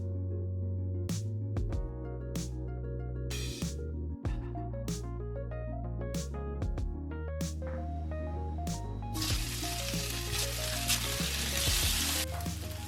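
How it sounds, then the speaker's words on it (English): Gluten-free vegan burger buns toasting in a preheated fry pan give a steady, soft sizzle that sits under a prominent music track and grows brighter near the end. "Preheat a fry pan and grill your burger buns."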